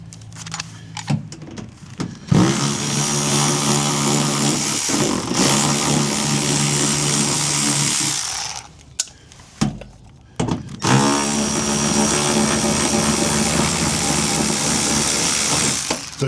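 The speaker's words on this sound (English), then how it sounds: "So I want to grab this ratchet here. Let's go ahead and get this off." Mechanical rattling from a tool removing 8mm bolts on a truck comes in two long loud bursts, with short clicks and knocks before and between them.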